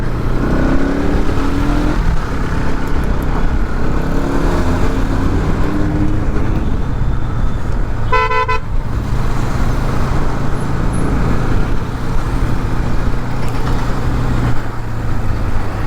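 A Bajaj Pulsar N250 motorcycle on a test ride, its engine droning steadily and loud amid road and traffic noise, with a brief sharp chirp in the middle and no voices.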